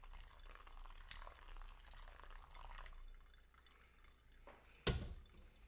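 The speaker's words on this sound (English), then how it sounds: "So we're going to just pour it around, and I'm pouring from a little bit of height." Hot water poured from a height over ground coffee in a pour-over brewer, a soft continuous trickling splash with a faint drip and a sharp knock near the end, quiet and close with no talking.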